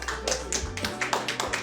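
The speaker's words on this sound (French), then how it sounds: "On peut les applaudir très fort." An audience applauds the owners of a Montreal restaurant at a press conference, a short burst of close, sharp claps over a low hum.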